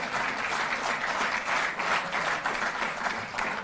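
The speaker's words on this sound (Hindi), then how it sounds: "जोरदार तालियां बजती रहें।" An audience applauds athletes honoured by the Delhi government for Olympic performances: sustained, dense clapping from many people, moderately loud and continuous with slight surges.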